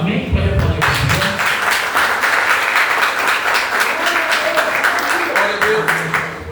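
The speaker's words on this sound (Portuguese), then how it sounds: "Pode aplaudir o Senhor." A church congregation claps loudly and steadily, hands striking in a brisk, continuous burst, with some voices and shouts mixed in near the start.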